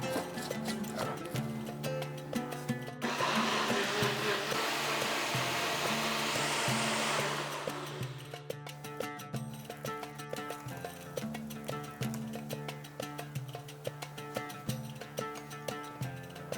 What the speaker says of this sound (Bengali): সামান্য একটু জল দিয়ে এটাকে স্মুথ করে বেটে নেব।